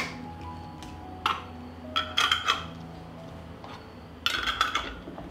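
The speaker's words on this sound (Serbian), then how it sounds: "Tegle zatvaram sa čistim i novim poklopcima." Glass jars being closed with clean, new lids: a few close, sharp clicks and clinks in short bursts, separated by quiet pauses, with no talking.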